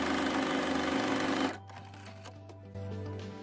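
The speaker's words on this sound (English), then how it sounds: "we're going to sew, and I'm going to use a 1/4 of an inch seam allowance" A sewing machine stitches layers of fabric with a 1/4 inch seam allowance, running loud and fast for a second and a half, then dropping to a lower steady whir that rises again near the end.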